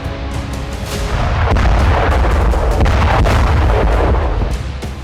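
Heavy, continuous rumbling booms blend into a dense roar of distant explosions and artillery-like fire around a power plant in wartime Ukraine, loud and sustained with no voices.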